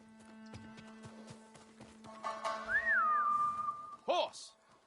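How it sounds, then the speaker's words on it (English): Horse hooves clip-clop in the Ghost of Tsushima video game, a brief run of light steps near the start beneath a steady tone, followed by a rising whistle-like call and a short horse whinny near the end. "Horse!"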